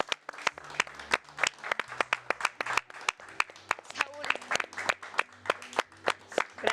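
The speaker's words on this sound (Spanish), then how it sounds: "un aplauso para nuestro querido Saúl." A studio audience on a Mexican television program applauds, rapid crisp claps from a small crowd forming a steady, moderately loud ovation with some sharp individual claps standing out.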